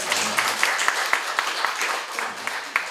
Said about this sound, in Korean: 우리 아들이 잘할 수 있도록 격려의 박수 한번 해주시죠